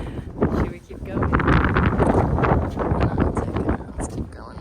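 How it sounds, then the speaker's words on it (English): Strong gusting wind buffets the microphone outdoors at Siena Cathedral, a steady loud rushing roar throughout with voices talking underneath. "It's very windy."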